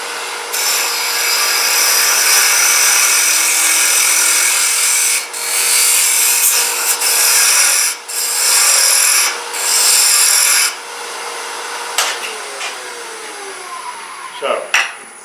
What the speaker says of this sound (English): the hollowing tool worked well for this